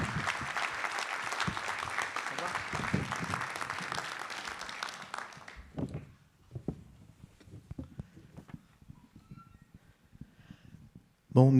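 Warm applause from an audience welcoming a guest at a wine-estate interview event, a dense burst of clapping for about six seconds that thins to scattered claps and shuffling, then a sudden loud sound at the very end.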